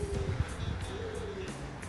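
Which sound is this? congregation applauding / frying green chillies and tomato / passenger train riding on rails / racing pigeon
racing pigeon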